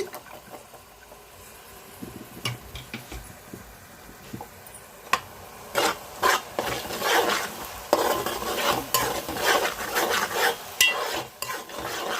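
Onion and masala paste frying in a pan for a fish curry, a close sizzle broken by brisk scraping and stirring strokes that grow louder and more rhythmic in the second half.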